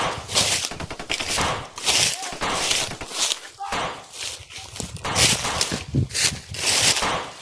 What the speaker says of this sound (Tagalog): Putok sa baba. Sa baba yung putok.